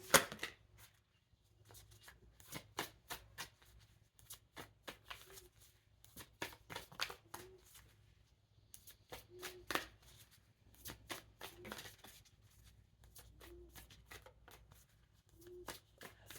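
Cards being shuffled by hand in repeated bursts of crisp riffling and slapping, fairly quiet, with pauses between shuffles and no talking.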